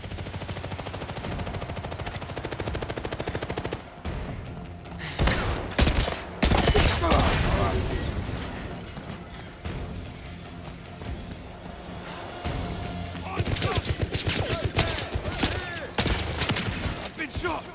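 Gunfire in the 007 First Light video game, with sustained rapid automatic bursts, heavy booming impacts and loud close volleys that start and stop abruptly, and shouting voices mixed in.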